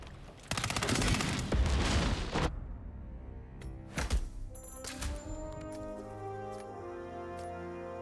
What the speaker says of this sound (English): on the way to the bolt we just shoot the satellite units